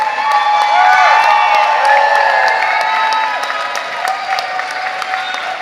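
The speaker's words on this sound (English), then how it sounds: "cheer for your favorite designer." An audience at a fashion runway show of Asian arts cheers and applauds, with a loud, dense wash of clapping and whoops that holds steady and then eases slightly toward the end.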